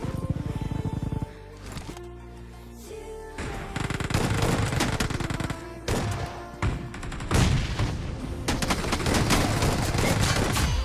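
Rapid gunfire bursts from a BGMI battle-royale match while enemies are being finished off, loud and dense with overlapping game sounds and music-like tones, no talk.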